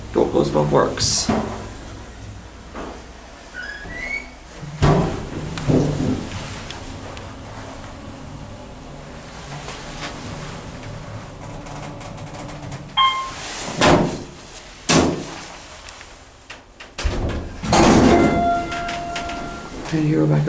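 An Otis Series 1 hydraulic elevator in worn, poor condition at 985 Berkshire in Wyomissing, Pennsylvania, rolls its door shut and starts down with a series of close thumps, clunks and rattles over a low mechanical rumble, with a person talking at times.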